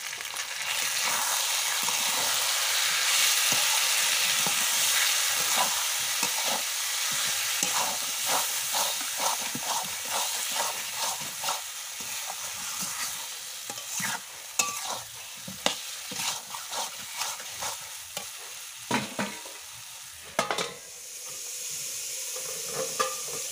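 Spice paste with salt and turmeric fries in oil for Bengali mutton kosha, a loud continuous sizzle and hiss with rapid repeated spatula scraping and stirring throughout.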